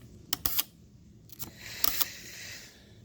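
A Graflex Speed Graphic camera shutter is cocked by hand, giving a few close, sharp mechanical clicks and scrapes with short pauses between them, in a quiet room.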